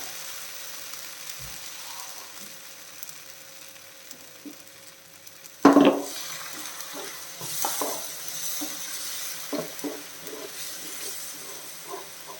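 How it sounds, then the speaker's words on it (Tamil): Water splashes into a hot pan of channa masala with a sudden loud hiss, then settles into steady sizzling and bubbling over medium flame with occasional stirring clinks. "இதில் கொஞ்சம் தண்ணி விட்டு அதையும் சேர்த்துறேன்"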